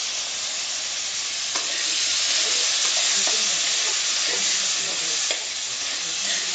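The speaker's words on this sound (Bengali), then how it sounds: "এই যে ধোয়া আলুগুলো আছে এগুলো এবার তেলের মধ্যে ছেড়ে দেব" Washed potato pieces fry in hot oil with a loud, continuous crackling sizzle throughout, punctuated by a few sharper pops and spatters; no talking.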